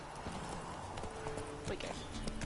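Horse hooves clip-clop in quick, uneven rhythm while riding in The Witcher 3 game, close and moderately loud, with a voice talking over them.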